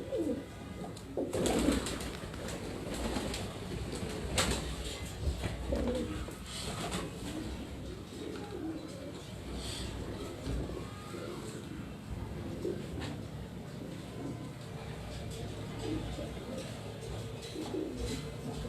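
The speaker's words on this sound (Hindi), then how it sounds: "और ये भी इनका एक उड़ा हुआ कबूतर है, ये चेक कीजिएगा।" Pigeons coo in a low, soft, repeated rhythm at moderate distance, with other birds and background voices mixed in throughout a steady outdoor ambience.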